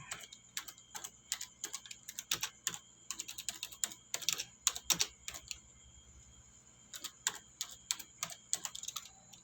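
Someone types a name on a computer keyboard. Crisp, close keystrokes come in quick irregular runs, pause briefly near the middle, then resume, with no voices.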